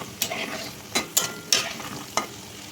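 Pastry frying in oil over low heat: a soft, steady sizzle broken by a few sharp clicks and scrapes of turning, close by, with no talking.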